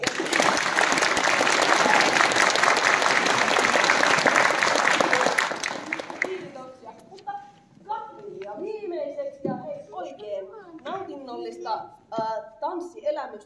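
Loud, dense applause from a large audience at an adult education college spring gala in Veteli, Finland fills the first six seconds, then stops and a person begins talking.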